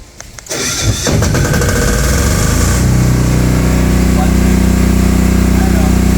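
A PhilKing 10kVA silent diesel generator starts by remote control: a brief cranking burst, then the engine catches and settles into a loud, steady idle hum that runs to the end.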